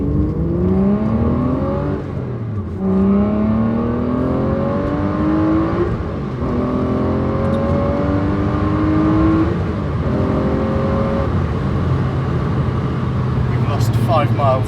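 A classic car's engine drones and revs while driving, rising through gears in repeated upward sweeps with brief dips between shifts, loud and close from inside the car.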